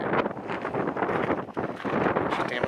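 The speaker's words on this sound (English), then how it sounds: "It's too fucking windy." Wind buffeting a microphone outdoors, loud broadband rumbling gusts filling the whole clip with a brief lull midway, no voices.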